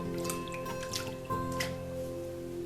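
Water rinses over a pan of paydirt being panned for gold, giving a close, steady dribbling and trickling wash with small drips and splashes throughout, no talking.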